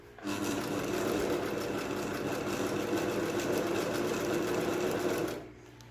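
A sewing machine stitches a buttonhole in fabric, running steadily and loudly up close in a rapid mechanical whir for about five seconds before stopping abruptly.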